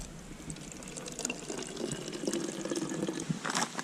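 Fast-flowing stream water rushes and gurgles close by as bottles are filled, a continuous bubbling splash that grows slightly fuller and louder over a few seconds.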